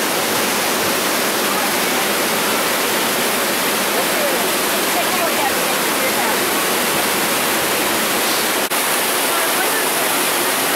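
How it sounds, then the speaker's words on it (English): Steady broadband roar of Peguche Falls in Ecuador cascading into a flume nearby, continuous and loud throughout, with a brief spoken remark faintly over it. "Here you see the water cascading down into the flume area that's been created"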